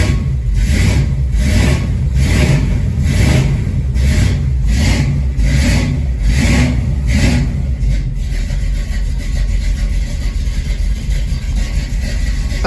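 Car engine with no choke, just after its subframe is connected on solid polyurethane mounts, revs repeatedly in a steady rhythm of about eight pulses, then settles to a rough idle, loud and close with no talk.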